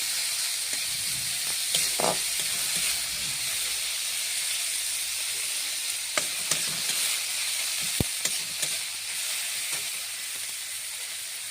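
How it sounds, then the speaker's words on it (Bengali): Onion and capsicum fry in hot oil in a wok, giving a loud, continuous hissing sizzle. Occasional stirring knocks and scrapes sound close by. "কড়াতে আবার তেল দিলাম, দিয়ে এবার পেঁয়াজটা ছাড়লাম, ক্যাপসিকামটা দিলাম"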